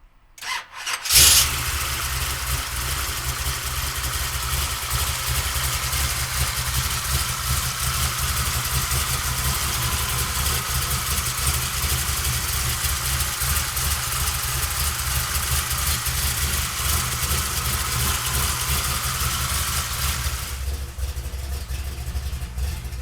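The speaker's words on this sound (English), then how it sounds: "So come on up and we'll fire this 572 up for you right now." A 1967 Chevrolet Camaro RS with a 572 big-block V8 cranks briefly and fires, then settles into a loud, steady, deep rumbling idle close by before cutting off near the end.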